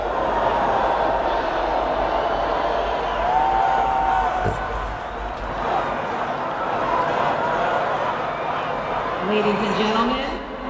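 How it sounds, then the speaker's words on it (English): An outdoor presidential inauguration crowd cheers and murmurs in a broad, continuous swell, rising and falling with scattered whoops, while a voice talks over the noise at times. "you can hear the crowd getting a lot bigger and a lot more energized"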